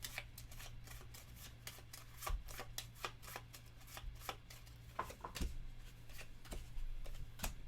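Cards shuffled during a solo tabletop game at a table, a quick run of crisp riffling flicks repeating over several seconds, close and soft with no talking.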